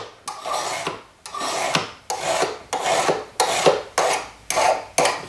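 A hand file rasps back and forth across a metal sword ring, smoothing away saw marks, in about eight steady, close strokes with brief pauses between them.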